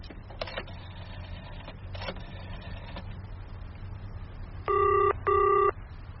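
A telephone in London is dialed with a couple of bursts of clicking, then two short double bursts of ringing tone follow, clear and close.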